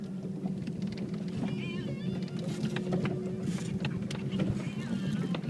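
Outboard engine on a boat just off the launch ramp, bogging down at about half throttle: a steady low motor drone runs throughout with splashing water noise, close and fairly loud, with faint talk mixed in.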